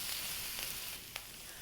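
A pork chop fries in a hot wok with a bright, continuous hiss of sizzling fat, broken by a couple of quick sharp crackles near the end.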